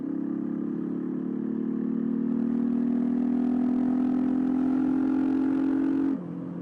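A motorcycle engine drones steadily while riding, holding a loud, even pitch that rises slightly before dropping off abruptly near the end, with no talking.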